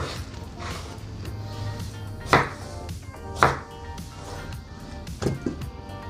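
A kitchen knife cuts potatoes into pieces on a board, with a few distinct sharp chops spaced out among quieter background noise and faint voices.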